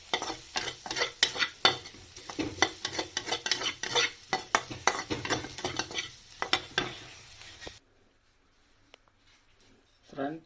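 A spoon stirs chili flakes into a sandwich filling in a pan, giving rapid scraping and clinking strokes for several seconds before the stirring stops and a quiet pause follows, ending with one faint knock.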